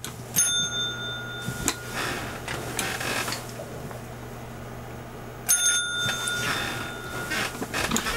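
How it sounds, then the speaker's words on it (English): A cat rings a bell, sounding two separate bright metallic rings, one near the start and one about five seconds later, each decaying slowly, with faint shuffling and tapping between them. "Ring the bell. Ring the bell."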